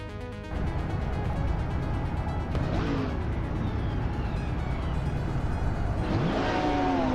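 Racing cars revving and accelerating off the line at the start of a video game race at Riverside, engines droning loudly and continuously with rising tones and a tire squeal near the end.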